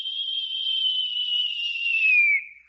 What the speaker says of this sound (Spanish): Un silbo apacible